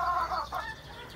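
A small bantam hen clucks briefly close by, giving a couple of soft, quick calls with no talking.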